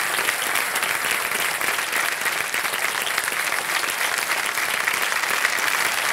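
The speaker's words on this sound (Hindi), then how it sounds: "खड़े होकर के तालियां बजाई जा रही हैं काजल रेवती जी आपके लिए।" A television quiz show studio audience rises in a standing ovation for two celebrity guests, Kajol and Revati, loud, dense, continuous clapping filling the hall without pause.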